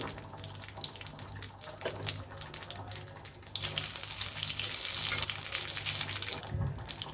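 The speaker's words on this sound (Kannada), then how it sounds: "ಶೇಂಗಾ ಹಾಕಿದ್ದೀನಿ ಕಡಲೆಕಾಯಿ ಬೀಜ ಅಂತ ಏನು ಕರಿತೀವಿ ಇನ್ನು ಒಂದು ಮುಕ್ಕಾಲು ಚಮಚ ಆಗುವಷ್ಟು ಎಣ್ಣೆ ಹಾಕಿದ್ದೀನಿ" A small handful of peanuts frying in about three-quarters of a spoon of oil, made for a traditional Sankethi Brahmin dish; a steady, close hiss runs throughout and swells louder toward the end.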